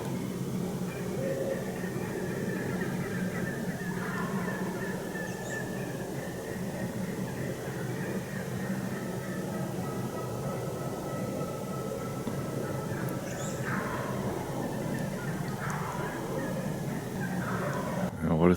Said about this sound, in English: there's turkeys all over down there. Can't see any of them, but they're gobbling like crazy.